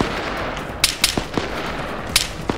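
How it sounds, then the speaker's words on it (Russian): Sharp rifle shots crack in ArmA 3, around six distinct reports spaced irregularly over a couple of seconds, some louder and nearer, others fainter and more distant, over low ambient noise. "В бункере враг, стреляю."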